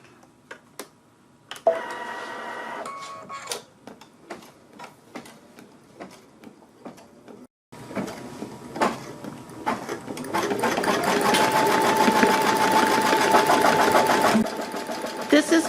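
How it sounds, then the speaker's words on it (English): An embroidery machine stitches a ribbon circle and square design in thread color one, starting with scattered ticks and taps and then building into a loud, continuous rapid stitching hum that runs for several seconds before easing. "Off to the machine. I'm stitching color number 1."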